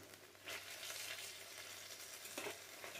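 Pieces of veal browning in a pan over lowered heat for a Provençal spelt paella, giving a steady, fairly faint sizzle with a few brief stirring bursts, no voices.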